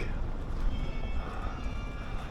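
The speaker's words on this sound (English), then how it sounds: "what you call a coach and horses" Horses pulling a coach clop along amid busy outdoor noise in Aachen, Germany, a steady uneven clatter of hooves heard at moderate distance over a rumbling background.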